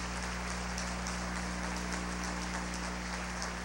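A congregation at a church congress claps in welcome, a soft, even patter of many hands heard at a distance over a steady low hum, continuous with no distinct voices.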